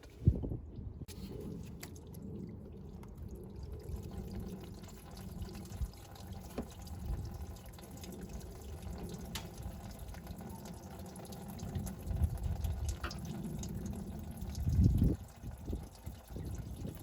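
Coolant draining from a Jeep TJ thermostat housing as it is pulled off the engine block, a steady low liquid trickle and splatter running throughout, swelling louder near the end.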